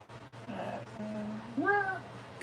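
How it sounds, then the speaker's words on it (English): A cat meows a couple of times with a rough, strained, hoarse tone, heard nearby in a workshop over a low steady hum. "You hear him? Meowing? It sounds kind of hoarse."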